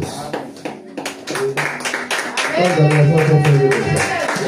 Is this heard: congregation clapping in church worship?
yes